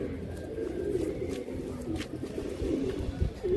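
Pigeons coo in a loft, several soft throaty calls overlapping in an uneven rhythm, fairly close, with low background rustling.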